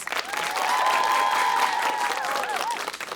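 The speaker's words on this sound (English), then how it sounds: "Big round of applause." An audience at a 2022 School Duel quiz game applauds both competing schools with dense, continuous clapping and some cheering, loud and sustained, with voices mixed in.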